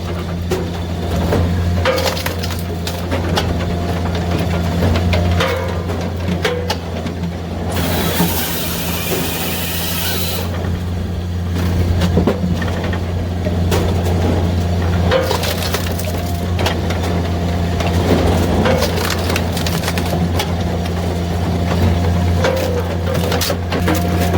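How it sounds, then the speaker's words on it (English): A Japa 405 firewood processor cuts a log: its engine drones steadily, with loud crunching and cracking wood and a harsh burst of cutting midway. "Now you can cut the log. All right, now hit the blue button again."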